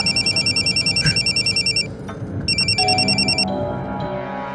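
A phone rings in repeated electronic trills, pauses briefly, then rings again before cutting off.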